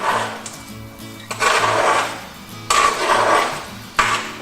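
Cubed bacon dropped into olive oil in a skillet, giving bursts of loud sizzling and spattering that swell and fade three times over a low, steady kitchen hum, with no speech.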